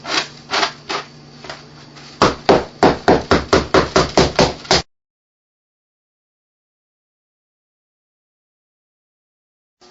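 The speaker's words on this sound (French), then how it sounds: "Pour enlever nos broches qui sont dedans, pour faire sortir les broches, on tape dessus." Rapid tapping knocks staples out of a fur coat during recycling: a few scattered knocks, then a quick, even run of about a dozen close, sharp taps that stops suddenly into silence.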